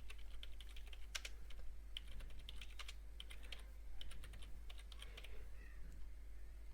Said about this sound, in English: So let's type social media marketing.